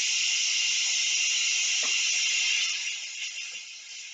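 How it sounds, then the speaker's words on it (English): Loud, steady hiss of steam venting from a pressure cooker under pressure, continuous and close, tapering slightly toward the end. "I can release the pressure on it, and it's going to make a loud noise"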